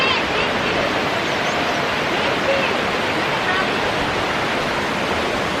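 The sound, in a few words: waterfall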